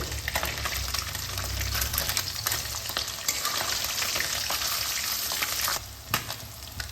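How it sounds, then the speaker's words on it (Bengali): Small morala fish frying in oil while being flipped, a close steady sizzle broken by scraping and soft knocks of a spatula turning them in the pan. "এই উপরে একটু ভাজা ভাজা হলে পরে মাছটাকে উল্টে দিতে হবে"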